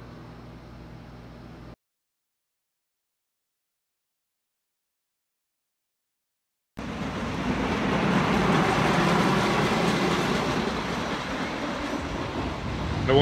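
A train rolls past along the edge of a campground, a loud steady rumble and rushing roar that holds on after an opening stretch of quieter ambient noise and a gap of silence.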